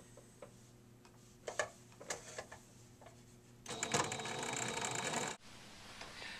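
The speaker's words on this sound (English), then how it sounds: "I'm going to start sewing them together." A sewing machine stitches quilt fabric strips together: a few scattered clicks and taps while fabric is positioned, then a near, fast, steady mechanical whir for about two seconds before it stops.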